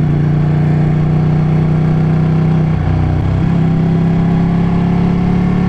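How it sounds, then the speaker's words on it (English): Ducati 899 motorcycle with its standard exhaust can, a loud, steady, close engine drone with a strong low hum throughout and a brief dip in pitch midway. "I'm hoping you guys are picking up that exhaust because it does sound really nice, and this is the standard can as well"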